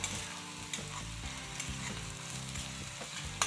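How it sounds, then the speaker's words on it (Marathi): Onion and garlic frying in oil, with a steady close sizzle and a few soft clinks of a stirring spoon against the pan, with no talking. "तर हा आपला कांदा आणि लसूण परतून झालेला आहे"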